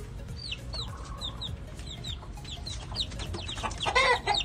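Young gamefowl chicks of the 5K Sweater line peep and cheep in quick, repeated high chirps, with a louder flurry near the end over a low background rumble.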